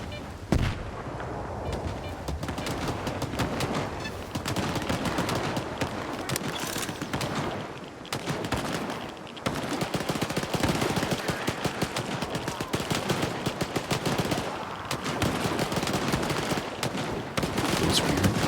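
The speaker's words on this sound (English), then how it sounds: "Lots of shooting." Heavy gunfire in the game STALKER 2, dense bursts of shots and booming blasts pounding almost continuously, loud and chaotic with a brief lull in the middle.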